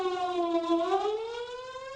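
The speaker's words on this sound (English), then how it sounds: "What if a warning siren sounds?" A civil defense warning siren wails steadily, its tone sliding slowly upward, heard at a moderate distance without other sounds.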